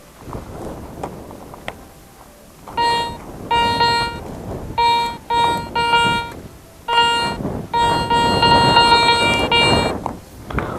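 A metal detector emits repeated electronic beeping tones in short bursts, loud and close, over faint background rustle, while searching for coins in Kazakhstan.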